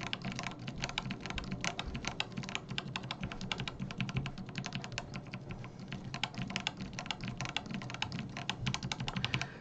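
Fast continuous typing on a mechanical keyboard with Zealios switches on a board missing some keys, a dense stream of close clicky keystrokes with steady rhythm and no speech.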